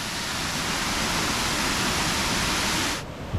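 A high-flow waterfall in the Pennsylvania backwoods after heavy rain, water pouring over the edge in a dense, steady roar close by, cutting off abruptly near the end.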